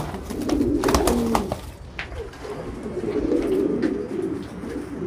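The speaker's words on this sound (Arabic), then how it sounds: "ده فرد حمام نفاخ ضن" A pouter pigeon cooing nearby, soft low throaty coos rolling in a steady, repeated pattern, with some faint background bird chirps.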